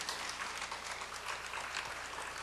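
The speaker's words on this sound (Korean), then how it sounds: "박수 한번 쳐주십시오" Applause from a congregation at a church mothers' prayer meeting, a steady dense patter of many hands clapping, fairly faint and distant, lasting throughout.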